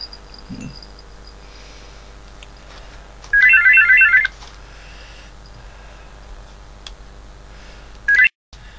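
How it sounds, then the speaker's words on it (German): A telephone rings with a bright electronic trill in one long burst near the middle, then a brief second ring just before the sound cuts off, over a quiet hum. "jetzt klingelt doch auch bei mir das Telefon"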